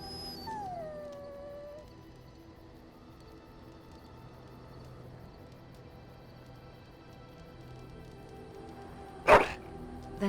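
A dog howls in the Dragon Age video game, its long wavering wail followed by quiet ambience and one sharp bark near the end.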